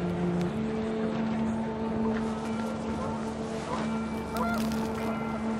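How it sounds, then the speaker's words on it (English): Panicked geese honk repeatedly amid rising wind in What Remains of Edith Finch, a cluster of sharp nasal calls over a low rumbling background with a steady droning tone. "The wind picked up, and panicked geese appeared and quickly went."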